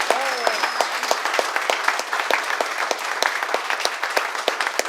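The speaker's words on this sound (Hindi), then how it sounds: "आरी गोल्ड के स्टाफ के लिए जोरदार ताली हो जाए" A hotel audience gives the staff a hearty round of applause: many hands clap in a sharp, crackling stream that holds steady from start to finish, with a brief voice at the opening.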